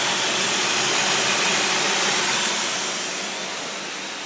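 A Range Rover engine with a repaired blown head gasket drones steadily at idle, loud and close, its hum easing slightly toward the end; no one speaks.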